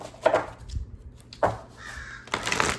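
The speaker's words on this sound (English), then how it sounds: "I don't know if you can hear it, but the crow is in the background." A crow caws several times in the background, with harsh calls spaced out across a few seconds. No one speaks over them.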